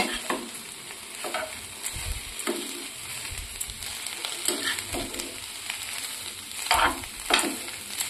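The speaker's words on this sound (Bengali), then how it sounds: "আর এটার মধ্যে একটুখানি হালকা তেল দিয়ে একটু হালকা নাড়াচাড়া করে নেবেন যাতে একটুখানি ফ্রাইড হয়ে যায়।" Soybean chunks fry in a little oil as a spatula stirs and scrapes them around the pan, giving a continuous close sizzle broken by several louder scraping strokes, with nobody speaking.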